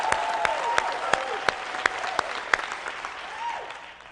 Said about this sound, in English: Give a big round of applause to John Wilson